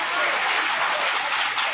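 Loud, sustained applause from an audience at a Papu Pom Pom stage show in Baripada, a dense continuous clapping wash with no talk over it.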